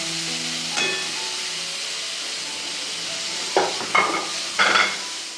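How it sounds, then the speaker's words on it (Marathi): Tomatoes fry in hot oil with roasted spices and garam masala, a steady loud sizzle broken by several scraping stirs of a spoon in the pan toward the end, close and without speech. "आता यात मी टॉमॅटो टाकते"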